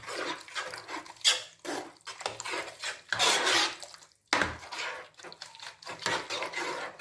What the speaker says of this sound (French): il faut tout écraser, les oignons, tout comme ça, comme je le fais